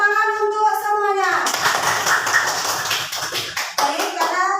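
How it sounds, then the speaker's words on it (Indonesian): Schoolchildren in an Indonesian classroom clap their hands together in a burst of dense, close applause that follows a teacher's voice and carries on for several seconds. "Tepuk tangan untuk semuanya."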